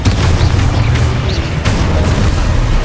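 A Confringo blast spell in Hogwarts Legacy detonates with a dense, loud booming roar that fills the scene, carrying through almost without a break.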